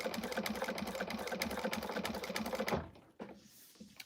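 A sewing machine stitches a quilt with a fast, even, close mechanical chatter that runs steadily for a few seconds, then stops abruptly with a couple of faint clicks after.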